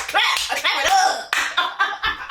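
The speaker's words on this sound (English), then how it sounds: "we gotta clap it up" A reunion-show studio audience for The Ultimatum claps along in a rhythmic beat that firms up toward the end, with voices and cheering mixed in throughout.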